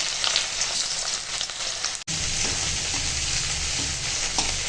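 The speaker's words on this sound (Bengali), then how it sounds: "পেঁয়াজটা একটু ভেজে নেব" Chopped onion sizzles steadily in hot oil with bay leaf tempering, a loud continuous frying hiss that breaks off for an instant midway and then resumes alone.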